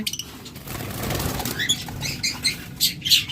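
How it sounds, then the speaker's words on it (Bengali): Caged locally bred lovebirds at a bird shop flap their wings in quick, papery flurries, with brief bursts repeating over a steady background hum and a few faint chirps. "আমাদের কাছে যে পাখিগুলো দেখতেছেন প্রত্যেকটা কিন্তু লোকাল ব্রিডের পাখি"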